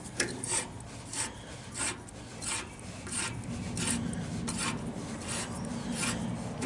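A tap is worked into metal to cut threads, giving faint, rhythmic rasping scrapes that repeat roughly every half second over a low background hum.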